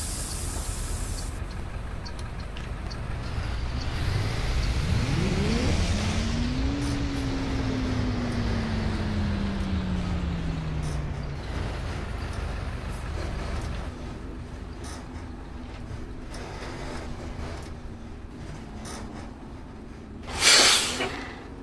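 A Mascarello Gran Via bus engine in a bus driving video game revs up and settles into a steady drone over a constant hiss. A sharp burst sounds near the end.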